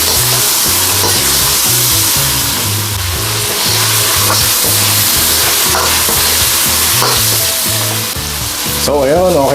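Chicken fries in a hot pan for a Vietnamese-style dish, a loud, steady sizzle with an ongoing crackle throughout, close to the microphone, with no talking over it.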